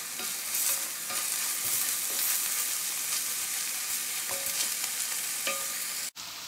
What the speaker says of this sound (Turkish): Soğanlarımız kavruldu.